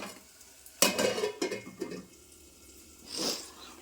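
A metal lid set down on a pot of fenugreek leaves, tomato and moong dal cooking over a low flame, giving a sharp clatter followed by a few softer knocks and a brief hiss near the end.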